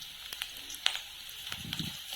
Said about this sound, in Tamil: எல்லாத்தையும் நல்லா வதக்கி விட்டுக்கலாம்